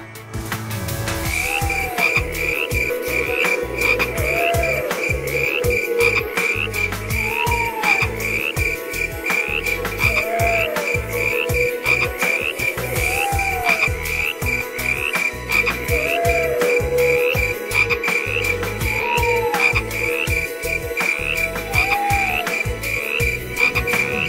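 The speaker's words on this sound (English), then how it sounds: "Frogs croaked in time to the crickets" Frogs croaking with crickets at night in a forest, a loud, even chorus of repeated croaks at regular intervals over a constant high insect trill, with no voices.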